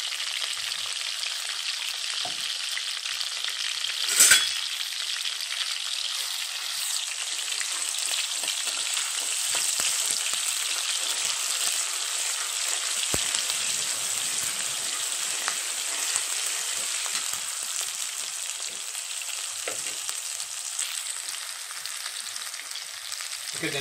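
Ginger garlic paste fries in hot oil for a brinjal tomato curry, a close, steady sizzle that runs throughout, with a brief sharp clink near the start and occasional stirring.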